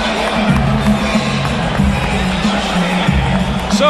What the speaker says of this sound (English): it's pretty clear that the crowd is favoring Castillo